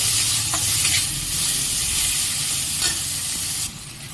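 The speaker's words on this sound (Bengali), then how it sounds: "তাই এটা আমি একদম হালকা করে ভেজে নেব।" Close, steady sizzle of chicken being lightly fried in a pan for mixed fried rice, with occasional stirring scrapes and a drop in the hiss near the end.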